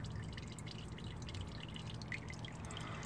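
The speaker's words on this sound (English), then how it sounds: "After 3 minutes, oil is already kind of dripping." Motor oil dripping from the drain of a 2014 Lexus ES 300h during an oil change, a faint, steady trickle of drips close by with no talk.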